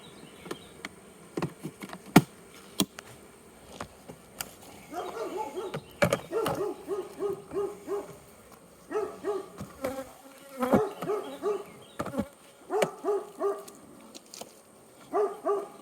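Honey bees buzz steadily around an open hive during a honey super inspection, a close, fluctuating drone with louder swells as individual bees pass near, plus a few sharp knocks from handling the hive boxes.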